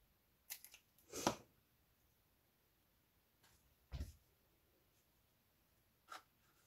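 Scissors snip through paper card while a pop-up box card is being made, a few short crisp cuts spaced apart in a quiet room, close and distinct, with no talking.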